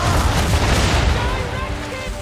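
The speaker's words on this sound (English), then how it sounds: "aim all guns at her bow and do as much damage as possible. Prepare to fire!" Ship cannons firing in Assassin's Creed III: a loud, continuous rumble of heavy booming broadsides that blend into one another and slowly fade.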